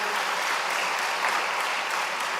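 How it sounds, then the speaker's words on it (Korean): A Sunday worship congregation in a church applauds a deacon, producing an even, sustained patter of many hands clapping with no voices over it. "박수 한번 쳐주세요."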